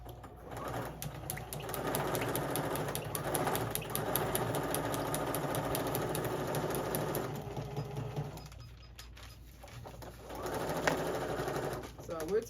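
A sewing machine runs steadily while stitching 5/8 inch seams on a child's garment top, its whirring continuous under ongoing talk, with a brief pause near the end.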